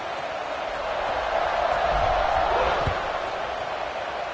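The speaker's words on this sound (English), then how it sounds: "this crowd is buzzing after that last score." A football game crowd buzzing after a score, a broad steady murmur of many voices swelling slightly in the middle, with a brief thump near the end.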